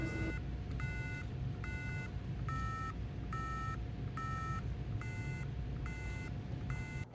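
A piezo buzzer on a robot beeps steadily, about nine short, shrill tones at an even rhythm, alone over a low background hum.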